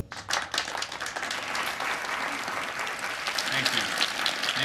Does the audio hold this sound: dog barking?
no